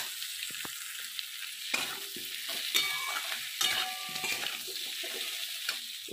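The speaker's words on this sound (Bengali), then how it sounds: "এবারে আমি ক্যাপসিকাম গাজরগুলো দিয়ে দিলাম, ভালো করে নেড়ে নেব।" Capsicum and carrots stirred in a frying pan for chilli soya, a steady sizzle under repeated scraping strokes of a spatula, close and moderately loud, no talking.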